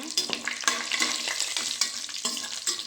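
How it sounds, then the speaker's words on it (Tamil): Fennel and cumin seeds fry in oil in a pan for mushroom biryani, crackling in quick, close bursts with stirring noises in between. "கொஞ்சமாக சோம்பு, கொஞ்சமாக சீரகம் சேர்த்து நல்லா எண்ணெயில் வணங்கிக்கோங்க"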